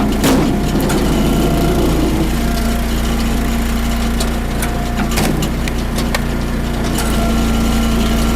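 A hydraulic log splitter driven by a steady small engine drone, with sharp cracks and splintering as straight wood is split into halves and quarters at working height; the engine runs continuously throughout with several distinct wood snaps.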